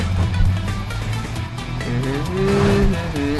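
Video-game trucks rumbling along in Clustertruck, a steady low engine drone with rising and falling whining tones, continuous and fairly loud with no talk.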